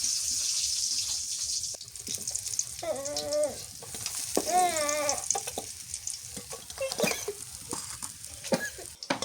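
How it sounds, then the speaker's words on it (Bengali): Hilsa fish frying in hot oil: a steady, close crackling sizzle with scrapes and clinks of a utensil, plus a couple of brief squealing tones partway through. "লাল লাল করে ভাজছি মাছগুলো।"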